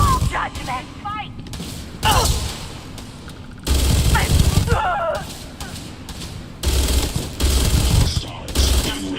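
Bursts of video game battle gunfire erupt in several loud volleys with thuds and booms, separated by brief lulls, alongside game voice lines and effects.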